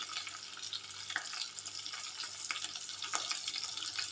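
Green chillies and fenugreek greens frying in a pan as they are stirred, a soft, close sizzle with light scraping strokes at a low level.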